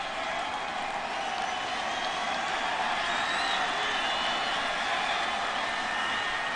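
A baseball stadium crowd at a 2006 Rockies–Cardinals game keeps up a steady, dense roar of cheering and applause, broad and continuous without breaks.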